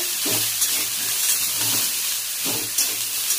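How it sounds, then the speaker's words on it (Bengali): Mixed vegetables with brinjal sizzle in a pan under a steady steamy hiss, with a few soft stirring scrapes at intervals, close and moderately loud with no talking. "সবজিগুলোকে দিয়ে দেওয়ার পর একটু নাড়াচাড়া করবো।"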